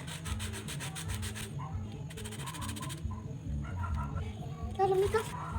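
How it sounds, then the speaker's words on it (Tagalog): A carbon brush from a radiator fan motor is rubbed flat against sandpaper in quick, rhythmic scratching strokes that stop and start, with someone talking underneath. "ipantay lang natin guys lihain lang din natin para magpantay"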